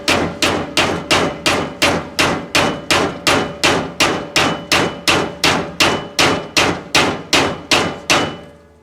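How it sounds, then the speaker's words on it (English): An aluminum or brass hammer drives a leaf spring bushing into a 2004 Chevrolet Silverado, striking about twenty evenly spaced, sharp metallic blows in a steady rhythm, loud and close with no talking. "so use aluminum or brass hammer"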